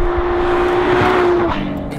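Ferrari F12 TDF driven fast on a wide open smooth road, its engine a loud sustained high-pitched howl with heavy wind and road roar, easing off near the end.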